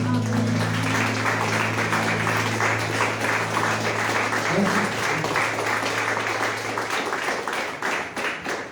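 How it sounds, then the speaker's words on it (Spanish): Loud, sustained applause from a congregation at a Torah portion teaching fills the room. Dense clapping runs steadily for about nine seconds, with a steady low hum underneath. "Un aplauso para el Eterno."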